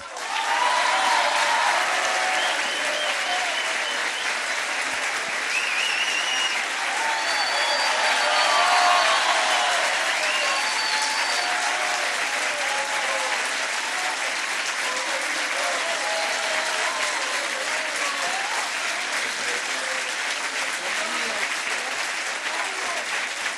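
An audience at Axel Kicillof's book presentation breaks into a long, loud ovation, with dense, sustained clapping and some crowd noise filling the whole stretch without letting up.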